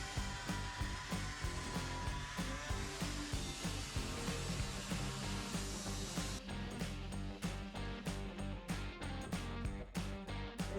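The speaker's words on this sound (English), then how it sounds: "So what I'm going to do is I'm going to switch over to the angle grinder." Angle grinder whining continuously while cutting into the interior wall of a shipping container, a close, steady high-pitched grind with rhythmic pulses and no talking.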